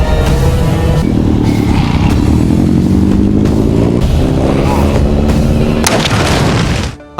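Daryl's motorcycle is ridden ahead of a zombie horde toward the Saviors' compound: a loud, continuous engine drone that rises in pitch, revving under heavy booming rumble, then cuts off abruptly near the end.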